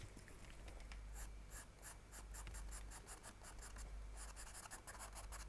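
Pastel pencil dry-scratching across paper, laying white and yellow onto a lotus flower petal, in steady close strokes with short rhythmic bursts of scraping.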